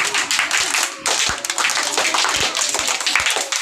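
Loud hand clapping during an exercise routine, a rapid, slightly uneven series of sharp claps repeated many times close by, with no talking over it.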